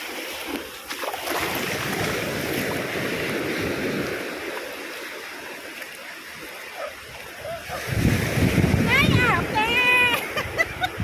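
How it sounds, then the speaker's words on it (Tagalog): Waves wash and surge close by in a steady churn that swells louder near the end, while people talk and birds chirp faintly. "malakas yung alon"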